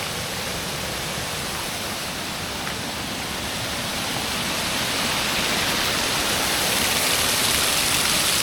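Rushing water of a waterfall stream in Madeira, a steady broadband roar that stays loud and continuous throughout, swelling slightly toward the end with no voices.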